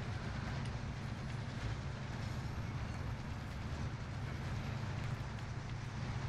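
A train rolls along in Call of Duty Warzone, giving a steady, loud low rumble with continuous rail noise throughout and no clear breaks.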